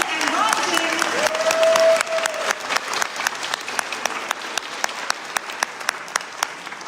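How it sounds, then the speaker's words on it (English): An evening appreciation presentation audience for a Sullivan County event gives a loud round of applause that swells, then thins into scattered individual claps as it fades. "Let's give ourselves one last round of applause."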